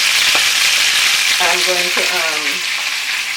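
Beef pot roast browning in a pot over low-to-medium heat, giving a steady, loud, close sizzle and fry that never lets up, with a voice speaking briefly over it.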